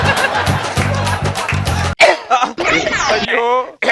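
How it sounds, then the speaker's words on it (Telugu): A man coughs in a comedy skit: a few rough, abrupt coughs over background music and speech, loud and close. "అమ్మవారికి వేడుకుంటున్నా కూడా మీ దగ్గు పోవట్లేదే"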